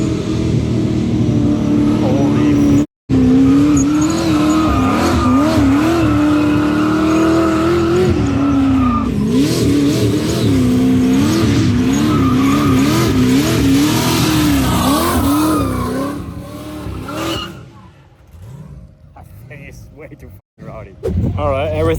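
A Pontiac Firebird drift car at the Freedom Factory track revs hard and loud with a wavering, rising and falling engine note and tire squeal, then drops to quieter, scattered noise near the end.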